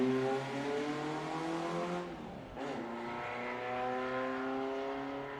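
A 1.9-litre Volkswagen Beetle race car at the Historic Leyburn Sprints, a grassroots sprint event in Australia, passes close by, its engine a loud steady drone that dips briefly mid-pass before carrying on at full volume.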